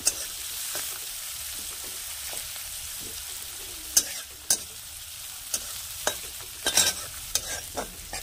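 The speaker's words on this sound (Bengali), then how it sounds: "হালকা করে একটু ভেজে নেব, ব্রাউন করে নিয়ে তারপর আমি" Sea fish frying in a pan in a village kitchen, a steady soft sizzle with a spatula stirring and scraping in scattered sharp clicks and knocks, close and fairly quiet, no talking.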